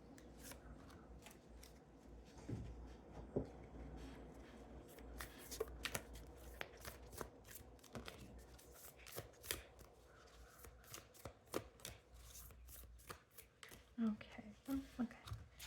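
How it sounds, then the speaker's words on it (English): Oracle cards being picked out and turned over, a long run of soft papery flicks, slides and taps at close range, with quiet speech in places. "I'm going to select these oracle cards and then I'm going to turn them over at the same time"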